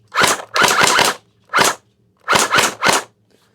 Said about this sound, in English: Let's see if we can get some firing rounds going.